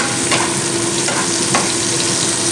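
Chopped onion fries in hot oil in a pan for a hilsa fish curry, a loud steady sizzle with a few soft stirring scrapes, close and continuous with no talk.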